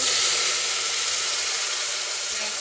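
A glass of water hits a hot pan of ghee-roasted ground rice and sugar, releasing a loud, steady hiss of steam that fades slightly over a few seconds, with no talking.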